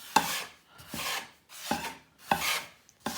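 A spatula works pasta dough in five evenly spaced, rough scraping strokes, each a short rasping swipe followed by a pause, close and fairly loud with no talking.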